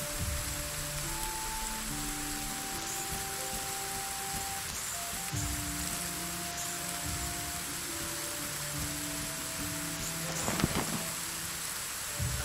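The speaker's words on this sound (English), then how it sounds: "it's raining even harder now" Heavy rain pours steadily in the video game Black Geyser, a dense, constant hiss under a low sustained music drone, with a brief louder patter near the end and no talk.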